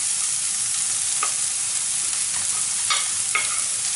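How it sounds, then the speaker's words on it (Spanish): Onion, garlic and green and red peppers fry in olive oil with a constant, loud hiss, broken by a few soft stirring clicks. "voy a añadir un poquito más de aceite, un poquito, y voy a añadir lo que es la cebolla"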